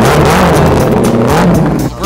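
A high-horsepower turbo snowmobile, 390 horsepower, revs hard at Mountain Mod Mania, a loud, close, roaring engine that surges and holds before dropping off abruptly at the end.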